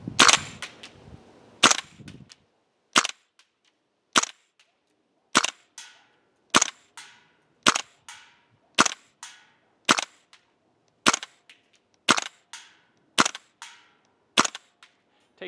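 PTS Mega Arms MKM gas blowback airsoft rifle firing single shots at a 100-foot range target, about a dozen sharp cracks spaced roughly a second apart, each with a short metallic action clack, close and loud.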